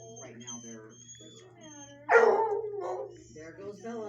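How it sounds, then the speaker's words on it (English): Dogs in shelter kennels bark and whimper, with one loud burst about halfway through, while people talk throughout. "So we have 6 kennels, and today there's 6 dogs."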